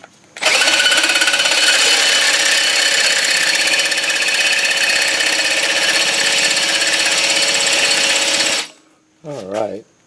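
A power drill runs loud and steady for about eight seconds, boring out a seized front brake rotor retaining screw on a 2005 Honda Accord, then stops, leaving a brief trailing whir.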